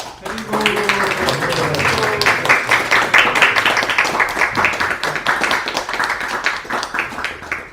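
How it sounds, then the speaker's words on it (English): Audience clapping during a Krishna Katha gathering, a lively, close round of many hands with some distinct individual claps, continuing for several seconds, with a voice briefly heard at the start. "Give a round of applause"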